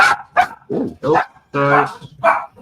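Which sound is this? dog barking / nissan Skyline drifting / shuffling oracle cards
dog barking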